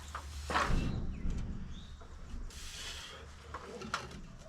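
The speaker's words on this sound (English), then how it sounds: "Clamp down here to hold the bottom." A clamp is ratcheted down to hold the bottom of a sawmill shed build, a few quiet mechanical clicks and creaks outdoors with faint birdsong.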